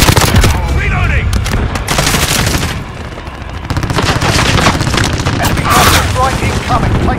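Rapid gunfire and heavy booms from a Call of Duty: Modern Warfare match, dense continuous bursts of automatic weapons with blasts mixed in, loud and close throughout, with a brief lull midway and radio-style voice callouts underneath.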